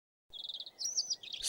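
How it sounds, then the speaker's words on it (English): Cheerful birdsong in a storybook game's forest setting: a run of quick, bright chirps and tweets that begins after a short silence, then rising trills and a busier burst of calls, fairly close and clear with no talking. "Suddenly, he heard some cheerful chirping."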